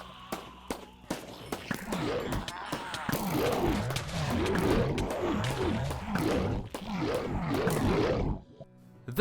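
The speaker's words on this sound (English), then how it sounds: "I quickly loaded the cartridges into the turret and then began to shoot them myself" Rapid gunshots from a player and an ammunition-loaded turret firing on a huge zombie horde in hardcore Minecraft: sharp cracks in uneven bursts over a steady bed of low, groaning zombie roars, loud throughout and cutting off near the end.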